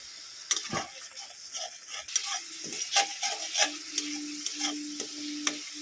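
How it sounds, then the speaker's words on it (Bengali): Onions frying in oil in a pan for a Bengali topse fish curry, with soft sizzling under irregular scraping and clinking stirs, a steady tone running underneath. "পেঁয়াজটাকে একটু ভালো করে কষিয়ে নেব যতক্ষণ না গন্ধ যাচ্ছে"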